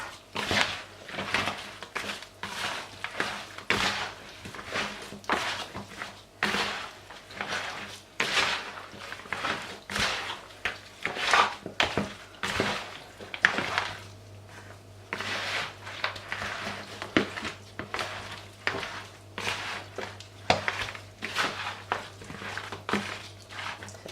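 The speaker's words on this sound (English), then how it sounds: "So I'm just going to use my hands to mix this all together" Hands mix oxtail meat with seasonings in a bowl, producing a steady run of wet squelches, squishes and soft knocks against the bowl, close and continuous for a long stretch with no speech.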